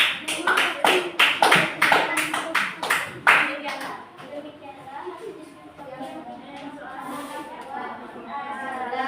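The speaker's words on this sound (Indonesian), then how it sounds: "Kasih aplaus dulu." Classroom applause for a student group, a burst of rhythmic clapping from many hands for about four seconds, then fading as people begin talking and exchanging greetings.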